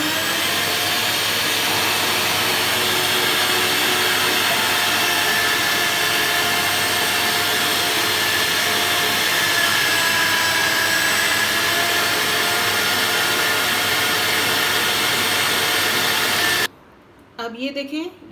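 An electric mincing machine whirs loud and steady as it grinds meat into mince through its large-holed plate for bajra-flour kababs, running continuously before cutting off abruptly near the end, followed by brief clatter.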